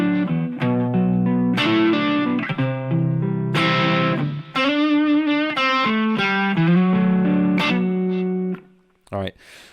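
Guitar strums the verse chords of a song with effects and reverb, a series of ringing chord changes and picked notes, close and fairly loud, ending in a few short muted hits.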